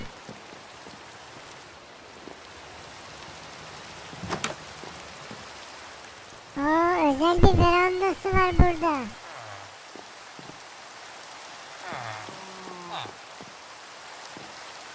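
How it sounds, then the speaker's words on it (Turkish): Steady rain hiss in Minecraft falls throughout, with people talking over it and a brief louder burst of game sounds partway through. "Ama nasıl yağmur yağıyor ya?"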